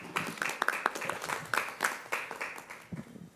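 Small group at a district diversity and equity committee meeting giving brief applause, a soft, steady patter of clapping that tapers off toward the end.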